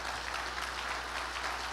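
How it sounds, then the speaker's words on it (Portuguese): A church congregation claps together in praise, a continuous dense wash of applause heard at a moderate distance and holding steady throughout. "Você pode dar um aplauso a Ele?"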